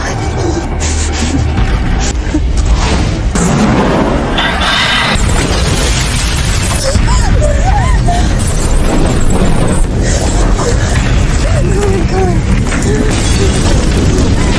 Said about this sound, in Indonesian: Ledakan itu memang berhasil membuat Amber dan Susie keluar dari area itu dengan selamat.